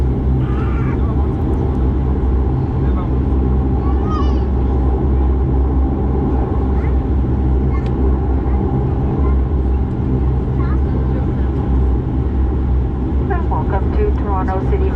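Cabin of an Air Canada Dash 8 Q400 turboprop braking hard after landing on a short runway at Toronto Billy Bishop, a loud steady engine and reverse-thrust roar with low rumble throughout, with faint voices underneath.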